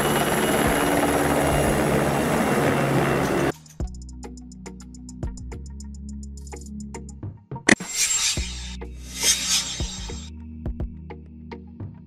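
A search and rescue helicopter roars for about three and a half seconds with a dense rotor and engine rumble, then stops abruptly. Scattered tonal sounds and short noisy bursts follow, and there is no speech.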